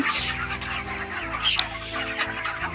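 Broiler chickens on a farm cluck steadily at moderate volume, with overlapping hen calls over a constant low mechanical hum of the shed.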